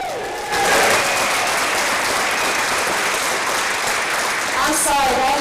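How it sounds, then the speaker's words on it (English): An audience claps for the live musicians at an honor orchestra concert, a dense, steady ovation rising quickly and holding strong, with scattered whoops near the end. "can we get a little bit of applause for live music?"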